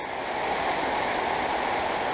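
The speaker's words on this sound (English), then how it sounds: "Excuse the noise, that's the rain." Rain falling outside a workshop where a Land Rover Series 2a 88 front axle is being rebuilt, a dense, even broadband hiss that stays steady and fairly quiet throughout, with no voices.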